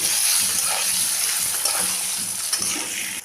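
Chili, turmeric powder and fried brinjal stirred together in a hot pan for a Bengali hilsa curry, a steady close sizzle with scraping spoon strokes and no talk.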